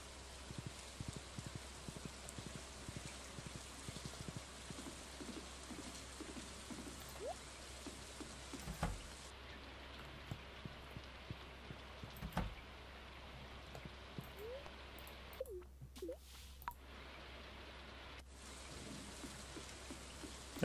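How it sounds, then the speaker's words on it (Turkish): Rain falls on the island in Stardew Valley, a soft continuous patter with scattered sharper drop ticks, quiet and steady throughout, briefly dropping out near the end. "Evet, adada da yine yağmurlu gün."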